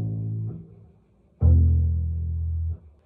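An upright bass string plucked incorrectly, pulled up and down rather than sideways, producing a thumping, buzzy low note that sustains briefly then cuts off, following a fading earlier note.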